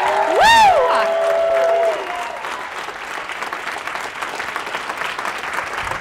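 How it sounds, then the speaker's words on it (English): Audience at a business event breaks into loud applause, with a rising vocal whoop at the start, then sustained clapping and cheering from a large room that carries on at an even level. "I want everyone to give an amazing round of applause"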